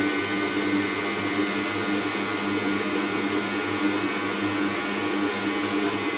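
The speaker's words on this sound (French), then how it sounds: "Donc on met à vitesse 1 jusqu'à ce que la pâte se décolle des bords." A stand mixer at speed 1 kneads pretzel dough with a steady, even motor whir that holds constant throughout, close and without speech.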